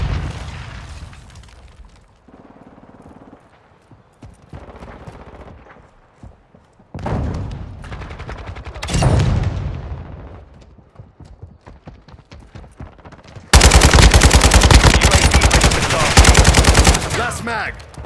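Gunfire in the video game Call of Duty: Modern Warfare II, with bursts of rapid shots, booming impacts and a loud sustained barrage toward the end. Heavy clattering runs through it.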